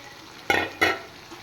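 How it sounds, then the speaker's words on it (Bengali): Green chilies go into chicken curry frying in a pan, giving two quick loud sizzling bursts about a third of a second apart before the hiss settles back down. "চিড়ে রাখা 4-5টা কাঁচা লঙ্কা দিয়ে দিলাম।"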